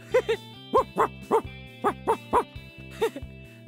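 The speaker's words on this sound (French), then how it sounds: "Ici, il y a, je dirais, un très gros chien." A large dog barks in short bursts, about ten yips and woofs in uneven clusters, fairly close and clear over a faint steady hum.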